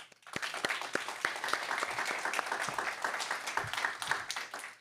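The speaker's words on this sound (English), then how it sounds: "please join me in a round of applause for our Alumni of the Year awardees, John Lapeire and Leah Tringale Duffy" An audience applauds steadily, a dense wash of many hands clapping at a fairly even level for several seconds, with a few sharper claps standing out.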